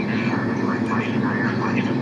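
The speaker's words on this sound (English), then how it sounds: "taxiing aircraft to pass by. I think it's Etihad diversion from Abu Dhabi to Dubai." An Etihad Boeing 787 taxies past in a flight simulator, a steady, loud jet engine whine and rumble holding level throughout.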